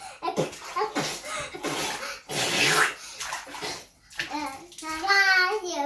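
A child splashes in bathwater full of bubbles during a lockdown at home in New Zealand, with a voice and chatter over the sloshing water and a rising squeal near the end.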